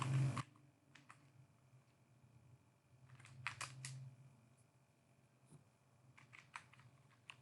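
Fingers type on a computer keyboard as a search term is entered, with short bursts of soft, close key clicks and sparse single taps over a quiet background hum, without speech.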